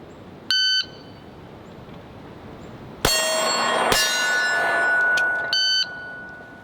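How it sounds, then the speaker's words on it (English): Electronic shot timer beeps at a law enforcement academy firearms qualification, a short clear tone near the start and another near the end, with a louder broadband stretch of ringing tones between them over steady background noise. "Disregard that beep,"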